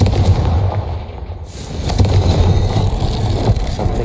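Confringo, an explosive spell, is cast in a Harry Potter video game: a dense, rumbling blast with low booming energy that sustains for several seconds, swelling again midway amid game ambience.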